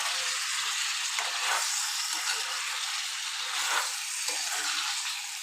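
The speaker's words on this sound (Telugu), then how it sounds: "చికెన్ యాడ్ చేసుకున్నాం కదా అంత ఒకసారి మంచిగా మిక్స్ చేసుకుందాము." Chicken pieces being stirred and mixed in a hot pan for a lemon chicken curry, giving a steady, close sizzle and frying hiss with faint scraping of the spoon throughout.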